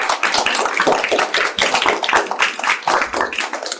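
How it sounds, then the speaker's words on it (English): A round of applause, brisk irregular clapping from a small group, fairly close and lively, holding steady throughout. "please let's give a round of applause"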